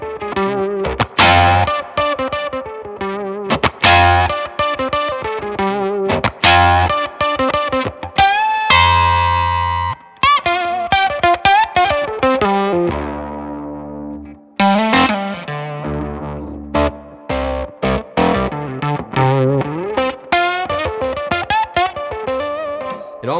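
Electric guitar run through an Octavia octave fuzz pedal, producing thick, ringing distorted notes with strange overtones, played in choppy riffs and sustained bends, loud and alone.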